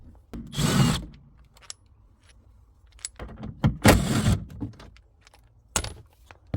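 A power tool whirs in two short bursts, removing T30 bolts on a Mercedes ML-Class W164, with metallic clinks and handling knocks in between, close and fairly loud.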